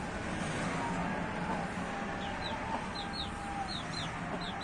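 Chickens cluck softly amid a noisy farm backdrop, with occasional high chirps from chicks and a steady low hum underneath.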